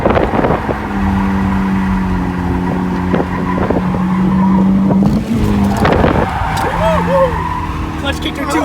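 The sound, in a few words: BMW E36 tires squealing during clutch-kick drift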